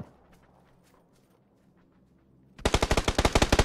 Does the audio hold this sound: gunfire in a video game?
yes